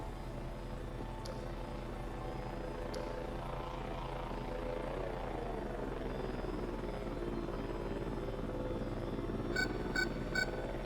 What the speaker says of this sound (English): I thought I heard, like, another whirring sound other than the drone.